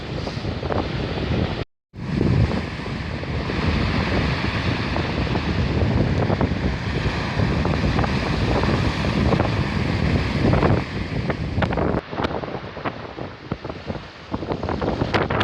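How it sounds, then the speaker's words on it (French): Strong wind roars steadily into the microphone on the Normandy coast, a constant heavy rumble with a brief drop in the middle and gusty surges near the end. "J'imagine que vous devez bien entendre le vent."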